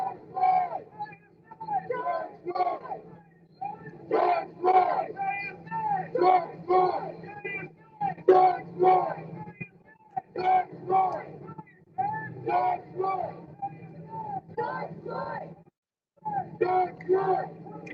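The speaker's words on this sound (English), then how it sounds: "I was just listening to this chant." A protest crowd chants in steady rhythmic phrases led by a man on a megaphone, loud call-and-response bursts repeating with short pauses while waiting for a verdict.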